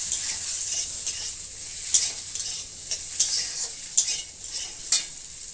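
Onions sauté in hot oil in a pan, with potatoes added, giving a steady bright sizzle broken by several sharp stirring scrapes at irregular intervals, close and alone without talk.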